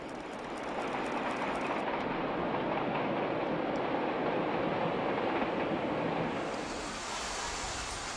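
A train rumbles steadily with a broad rushing roar, rolling into a small-town station in Thuringia on the line to Gera at close range, before the noise shifts and brightens toward the end.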